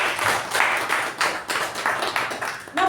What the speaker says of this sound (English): So huge round of applause for our MC for the day.